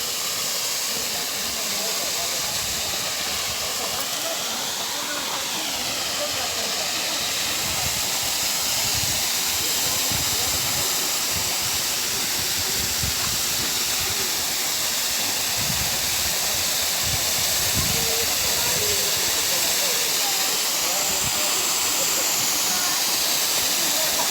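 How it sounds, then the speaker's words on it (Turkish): Çiseli waterfall in Ordu roaring in June, a loud, continuous broadband rush of falling water that stays steady and close throughout, with a voice briefly audible over it. "Şelalemiz gürül gürül akıyor."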